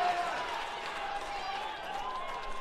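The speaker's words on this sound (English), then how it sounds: "You can clap all you like." A crowd applauds and claps at the 2018 Black Diamond AFL women's grand final between Newcastle City Stars and Wyong Lakes. The clapping forms a steady, dense wash under continuous commentary.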